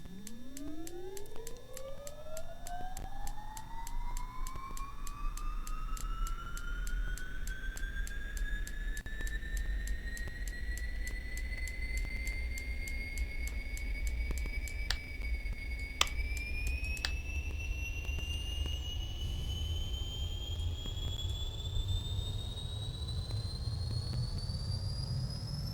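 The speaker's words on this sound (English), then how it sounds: "Good engine start on the right." The right turboprop engine of a Carenado B1900D starts in the X-Plane 11 simulator, a steady whine rising smoothly in pitch as it spools up over a low rumble, with a brief click partway through, and no talk.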